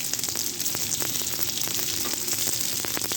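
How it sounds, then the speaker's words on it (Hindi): Mutton tikka boti pieces fry in oil over a low flame on their second side, giving a steady close sizzle dotted with small crackles and pops throughout. "अब दूसरी साइड से भी हम इसको सेक लेते हैं 4 से 5 मिनट तक लो फ्लेम पर"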